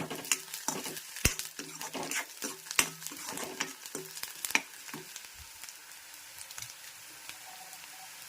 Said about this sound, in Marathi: इकडे कांदा आपला छान फ्राय होतो